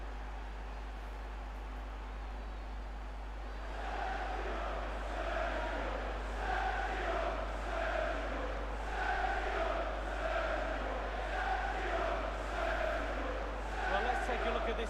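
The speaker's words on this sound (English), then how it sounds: "The crowd have gone crazy, and quite rightly so." A football crowd in a stadium roars and chants after a goal for City, a loud, rhythmic mass of voices rising and pulsing for several seconds, with commentary talk over the top.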